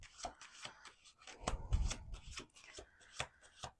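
A deck of tarot cards riffles and slaps together in quick bursts, a close, crisp shuffling repeated several times with brief pauses between.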